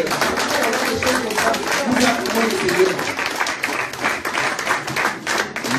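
A congregation applauds to acclaim the Lord, a dense, sustained wash of clapping from a crowd that continues throughout, with voices mixed in.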